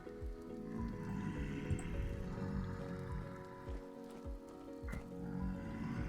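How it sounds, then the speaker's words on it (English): Rain falls in the Vintage Story survival game, a dense wet pattering with small drips and splats, steady and fairly close, with no voices. "Nope, that's rain coming down."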